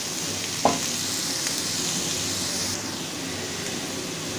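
Cauliflower filling for Bangladeshi hotel-style singara, with raw onion added, sizzles steadily in a pan while being stirred, with one sharp utensil clack early on and no voices.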